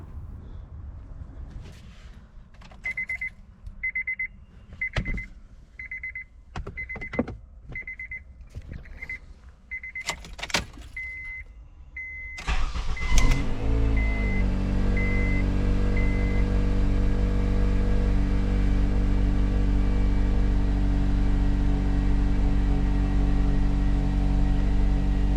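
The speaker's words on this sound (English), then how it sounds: "let's hop in the car and see if this thing's about to start" A Honda CR-V with a newly replaced starter sits with its door chime beeping in a steady pattern, then cranks and catches within a second, settling into a steady, close engine idle that continues alone.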